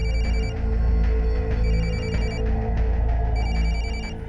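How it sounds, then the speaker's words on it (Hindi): A mobile phone rings inside a locked house, its electronic ringtone repeating in steady bursts over a loud low background rumble. "फोन की आवाज तो अंदर से आ रही है।"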